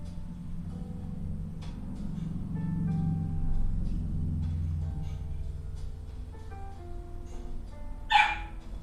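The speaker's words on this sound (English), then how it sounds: "Oh, puppy." A puppy barks and yips in short bursts, one sharp louder yelp near the end, heard alone in an indoor room.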